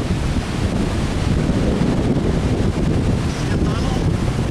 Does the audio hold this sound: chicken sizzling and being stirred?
no